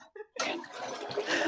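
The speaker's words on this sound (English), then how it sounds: "Continues to flush the toilet." A toilet flushing: a couple of brief vocal sounds first, then a sudden loud rush of water that keeps roaring steadily to the end, close and dominant.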